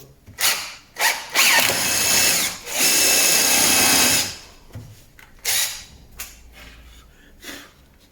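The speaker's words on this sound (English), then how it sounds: "Now I'm using Gyprock screws, which are a high tensile" A power drill drives high-tensile Gyprock drywall screws into sheet steel on a Ford Capri kicker plate, with several loud motor bursts of varying length separated by brief pauses, close up and without speech.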